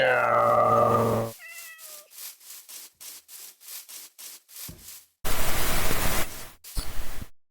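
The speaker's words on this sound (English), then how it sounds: "Kitty cat." A Minecraft cat meows once at the start, then soft rhythmic scratchy taps follow, ending in two bursts of loud broadband noise.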